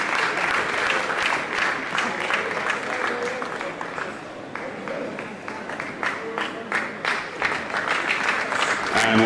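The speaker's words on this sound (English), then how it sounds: "round of applause." Crowd applause at the British Masters Athletics Indoor Track and Field Championships, sustained dense clapping that fills the hall, dipping briefly midway before swelling again, with an announcer's voice over it.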